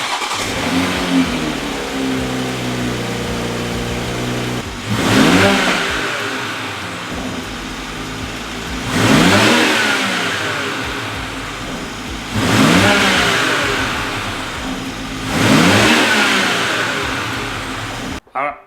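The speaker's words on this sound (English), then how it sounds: "hop in the car and then start it up" A Toyota Supra A90 B58 engine with a carbon fiber intake revs hard four times in a row, each burst rising and falling back to a steady idle, loud and close.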